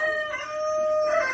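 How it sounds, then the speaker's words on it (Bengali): A desi rooster lets out a short, clear crow that holds a steady pitch for about a second, heard close and alone. "এই দেখো দেশি মুরগি"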